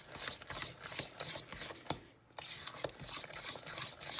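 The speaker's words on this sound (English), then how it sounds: "we're adding in the raisins and mix it all up" Raisins being stirred into banana bread batter by hand, a run of soft wet scraping and thudding strokes with a brief pause midway, fairly quiet and close.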